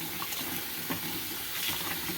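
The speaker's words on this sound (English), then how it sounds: "So we're going to add the rest of our water in here. Just regular tap water." Regular tap water pours steadily into a homemade laundry soap mixture, a continuous, even splashing rush at moderate volume.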